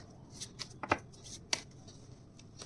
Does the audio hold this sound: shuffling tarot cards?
yes